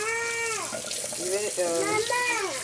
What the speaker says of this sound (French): Maintenant, je vais mettre de l'eau chaude